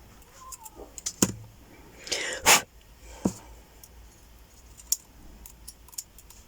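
Scissors or a punch cutting holes in paper for a handmade photo album journal, a few sharp snips and clicks spread out over a quiet room, with a louder rustle partway through.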